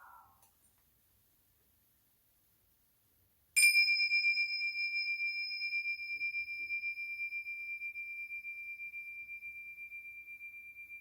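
A meditation bell struck once, then a clear ringing tone sustaining and slowly fading over many seconds in a quiet room.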